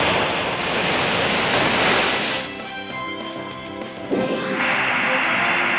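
Pokémon Omega Ruby's Surf attack sends a loud roaring rush of crashing waves for about two seconds. Game music and tones follow, then a sharp hit and a quieter surge.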